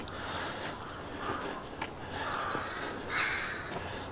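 Ravens cawing from trees around an abandoned castle, a few scattered calls over a faint, airy outdoor background.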